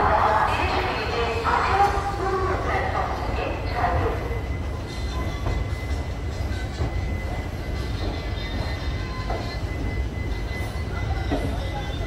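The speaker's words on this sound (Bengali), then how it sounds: "12:22 আমাদের ট্রেন তার নির্দিষ্ট সময় থেকে 17 মিনিট দেরিতে হাওড়া স্টেশনের 20 নম্বর" The 18013 Bokaro Steel City Express pulls out of platform 20 at Howrah station, running late, with a steady rolling rumble and rattle of wheels on track and voices talking over it.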